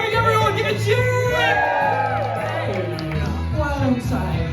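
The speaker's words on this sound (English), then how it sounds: "I'm from Birmingham, everyone give a cheer!" A crowd at a drag performance in Birmingham cheering, with loud whoops and yells rising over a thumping, music-heavy background and voices mixed in.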